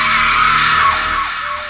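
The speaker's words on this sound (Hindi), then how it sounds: "उसे एक और जोरदार चीख सुनाई देती है" A loud, sustained scream used as a horror-story sound effect, a single drawn-out shriek that holds steady and then bends downward and fades slightly toward the end.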